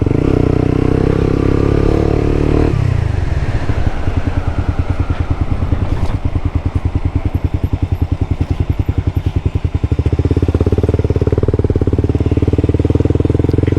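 A motorcycle rides along a separate motorcycle lane near the Padma Bridge toll plaza, its engine loud and close, changing to a rapid rhythmic clatter in the middle before the steady drone returns.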